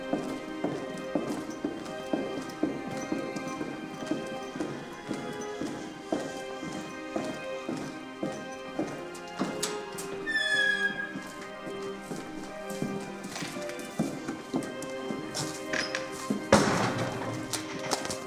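Horses moving about the wooden-boxed stalls of a stable at a horse ranch: steady hoof clip-clops and knocks at moderate distance, with a brief whinny partway through.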